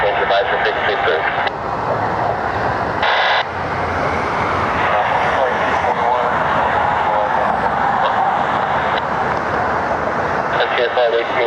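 A UPS cargo plane flying toward Louisville, heard as a steady jet engine roar with speech and radio chatter over it throughout.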